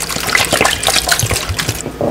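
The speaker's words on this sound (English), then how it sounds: "Use a little water." Water poured into a cooking pot of leeks and rice for prasorizo, a brief close splashing gush that runs continuously for about two seconds.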